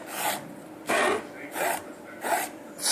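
A fork swiveled through wet paint on canvas for an abstract painting, giving repeated rasping scrapes in a loose rhythm, about five strokes, close and fairly loud.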